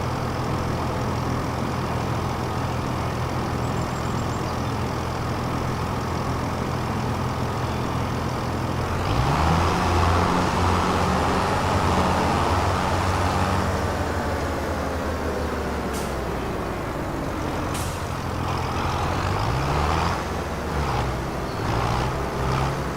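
A farm machine in Farming Simulator 25 drives out to the field, its engine a steady, moderately loud drone that swells and shifts pitch partway through as it picks up speed.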